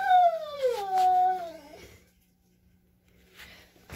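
Puppies give a drawn-out, wavering whimpering howl that slides downward in pitch, close and fairly loud, followed by a pause and a faint rustle.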